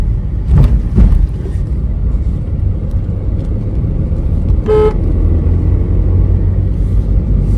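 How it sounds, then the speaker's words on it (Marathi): A car horn gives one short, loud toot partway through, heard over steady engine and road rumble from a vehicle on a winding ghat road. "इथे हॉर्नचा जरा जास्तच वापर करा"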